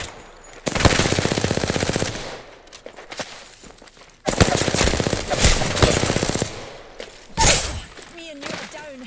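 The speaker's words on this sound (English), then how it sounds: "They're shooting at me." Rapid automatic gunfire in the Apex Legends battle royale, long sustained bursts of rattling shots loud and close, a pause, another extended burst, then a sharp single blast, with voices speaking during the action.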